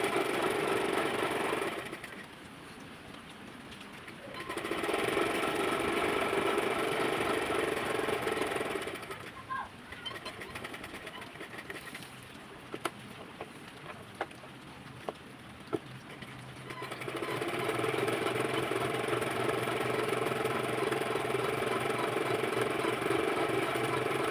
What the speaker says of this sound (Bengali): এইভাবে করে আমি পুরোটা সাইড আমি সেলাই করে নিই